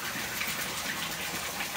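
Water pours and gushes steadily into a koi pond liner, a continuous close rushing wash with no pauses.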